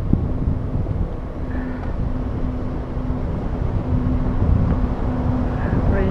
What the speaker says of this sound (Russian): Ветер, блин.